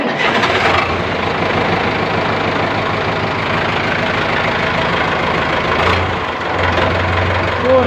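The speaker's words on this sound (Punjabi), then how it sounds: "ਲਓ ਜੀ ਤੁਹਾਨੂੰ ਸਟਾਰਟ ਕਰਕੇ ਦਿਖਾਉਣਾ ਮੈਂ ਬਿਲਕੁਲ ਠੰਡਾ ਟਰੈਕਟਰ ਆ" A cold-started Sonalika diesel tractor engine rumbles and knocks steadily and loudly throughout, with a brief change in its tone near the end.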